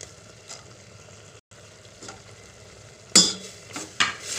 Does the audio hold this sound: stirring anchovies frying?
yes